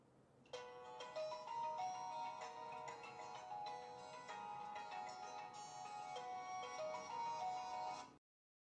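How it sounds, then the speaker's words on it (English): A Samsung Galaxy S3 phone ringtone plays a gentle chiming melody with soft nature-like tones, running steadily for several seconds before cutting off abruptly. "The alarms and ringtones are filled with soothing sounds of nature too."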